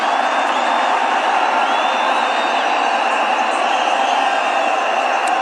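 Loud, dense stadium crowd roar at a Kenya vs DRC CHAN football match, sustained cheering and whistles filling the whole stretch without pause.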